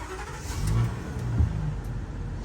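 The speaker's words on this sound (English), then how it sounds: "the engine starts up, everything's leveling out" A 24-passenger conventional StarCraft bus starting up, the engine catching and settling into a steady, fairly loud idle with a low rumble and slight revving swells, no talking.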